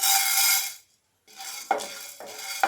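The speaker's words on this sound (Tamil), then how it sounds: "இப்போ அதே பேன் எடுத்துருக்கேன். இதில் உளுந்து சேர்த்துடலாம்." Urad dal poured into a pan for mustard chutney rattles and scrapes against the metal, a sustained clatter that stops, then resumes with sharp stirring scrapes and clinks, close and alone without talk.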